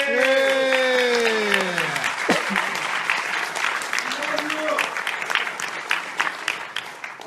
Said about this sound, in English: Give the guys a round of applause.